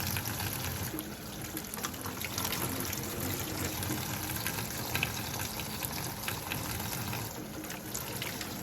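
Cold tap water runs steadily over hot broiled red peppers as their skins are peeled off, a continuous close splashing trickle with no talk.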